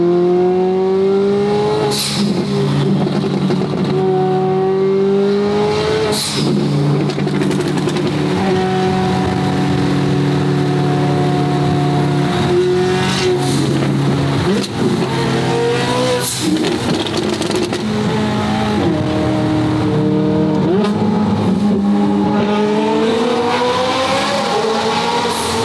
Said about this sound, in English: Let's hear those blow-off valves.